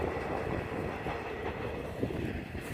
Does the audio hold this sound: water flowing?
no